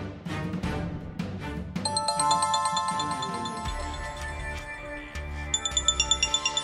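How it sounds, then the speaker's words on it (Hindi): A phone ringtone rings in a drama scene at home, a bright repeating electronic melody that starts after a few soft knocks and keeps chiming at moderate volume, with pulsing notes toward the end. "फोन आ गया।"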